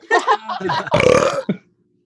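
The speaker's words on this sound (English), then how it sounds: "I told you you're not allowed to burp" A single loud, close belch of about half a second rumbles out right after a brief stretch of quick talking, followed by a short vocal blip and then silence.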